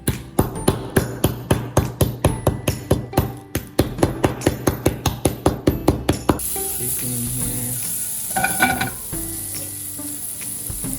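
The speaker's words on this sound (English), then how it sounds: "put it in a Ziploc bag, then we're gonna bash it with a hammer" About two dozen sharp, rhythmic thuds, like a hammer pounding peppercorns in a plastic bag, then a steady hiss of sizzling takes over.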